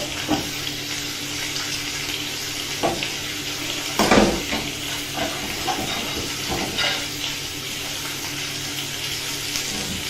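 Tap water running in a kitchen sink while hands and a knife are washed after handling raw pork, a steady wash of water broken by clattering splashes and knocks, no talking.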